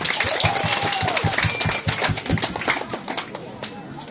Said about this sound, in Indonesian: Tepuk tangan untuk Bapak Wakil.